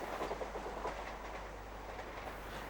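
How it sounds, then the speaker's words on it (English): An express formed of a Wessex electric unit speeds past, a faint steady rail rumble with light clickety-clack, heard alone without voices. "An express speeds through formed of another Wessex unit."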